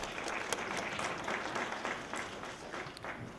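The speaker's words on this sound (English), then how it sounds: "So give yourself a big round of applause for that." Audience applause at an early learning center holiday program, a sustained patter of many hands clapping at moderate distance, fading slightly toward the end.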